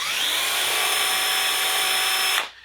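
A power drill bores a hole through a holiday ornament shaped like a thermal detonator, a loud, close, steady high whine that holds for over two seconds and then cuts off abruptly.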